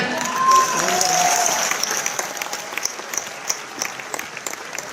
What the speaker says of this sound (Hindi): ताली थोड़ा दमदार होनी चाहिए, इतने हल्के में नहीं करना